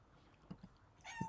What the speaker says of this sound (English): please excuse my cat saying hi to y'all